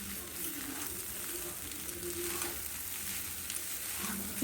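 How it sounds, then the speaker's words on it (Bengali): Boiled Maggi noodles fry in a pan while being stirred, giving a steady, close sizzle with soft scraping that runs without pause the whole time. "এটা অনেকক্ষণ ধরে একটু নাড়াচাড়া করতে হবে যাতে ভাজা ভাজা হয় জিনিসটা"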